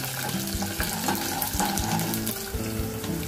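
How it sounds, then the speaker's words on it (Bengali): Whole garlic cloves fry with chillies in hot oil, making a dense, rushing sizzle that stays loud and near throughout, with no voices. "এবার রসুনের ফলগুলোকেও আমি একটু মরিচের সঙ্গে ভেজে নিব।"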